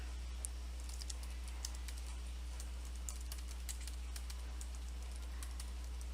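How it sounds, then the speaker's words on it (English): Fingers type steadily on a computer keyboard, a quick run of soft clicking keystrokes over a constant low hum, with no voices. "I'll just type here"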